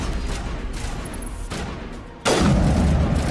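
Sniper rifle fire in the game Mass Effect 1, a few heavy booming shots with a loud blast near the end over steady battle noise, no talk.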